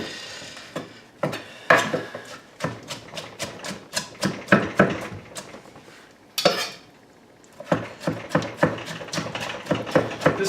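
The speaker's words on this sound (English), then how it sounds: "So group the tomatoes and roll the knife." Knife chopping tomatoes on a wooden board for spicy chicken chili, a quick run of sharp rhythmic clacks in bursts, close and fairly loud, with a brief pause midway before the chopping resumes.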